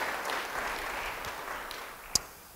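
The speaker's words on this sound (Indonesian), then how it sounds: "Yang percaya beri tepuk tangan yang baik bagi dia" A church congregation claps during a sermon, a soft, fairly distant wash of applause that fades toward the end and is broken by one sharp click.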